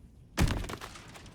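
A tome dropped and destroyed in a video game, heard as a single heavy thud with a brief crumbling crash that fades quickly after a quiet start.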